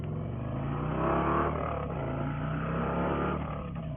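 A 2024 Indian Pursuit Dark Horse motorcycle engine drones steadily on a test ride, a close, continuous rumble that swells briefly as it revs a little harder before settling back to an even cruise.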